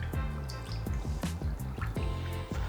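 Thick marinade poured over pork ribs in a tray, a close run of wet drips and splattering plops in quick succession, with no talk.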